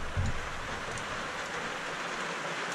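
Steady rain coming down outdoors, a constant broadband hiss with soft patter of drops and one low thump near the start, moderately close and unbroken, with no voices.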